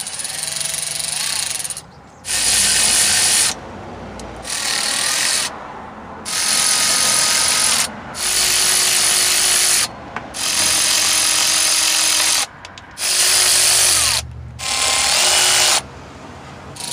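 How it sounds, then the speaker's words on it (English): A tool whirs in repeated bursts of about two seconds each, separated by short pauses, as an 8mm 1/4-inch flex socket loosens bolts on a Jeep Commander transmission pan. "which is why I'll be using an 8mm 1/4-inch flex socket to make this job easier"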